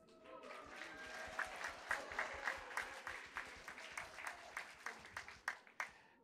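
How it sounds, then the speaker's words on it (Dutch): A church congregation at an Easter service bursts into applause, a dense, steady wash of many hands clapping with brighter individual claps rising through it for several seconds, heard from within the room. "want dan kunnen we gewoon weer elkaar applaudisseren en blij zijn voor elkaar"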